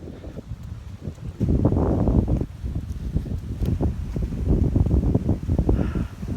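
Outdoor wind buffets the microphone in heavy low rumbling gusts during a walk, swelling and easing in uneven bursts, loud and close, with faint rustling behind.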